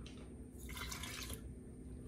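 Milk pours into a bowl of yeast for donut dough, a soft liquid splash and trickle swelling in the middle of the pour before fading, faint and close against a quiet kitchen hum.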